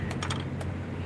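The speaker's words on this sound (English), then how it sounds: "You can probably see me typing away, right?" Short burst of typing on a computer keyboard, a few quick clicking keystrokes close by and fairly quiet, then a single isolated tap over a low steady background hum.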